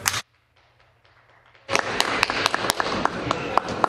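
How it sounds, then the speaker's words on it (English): Applause from an audience in a legislative chamber during members' statements, breaking out suddenly after a brief hush and continuing loudly as a dense, steady stream of many hands clapping to the end. "Thanks for that wonderful applause."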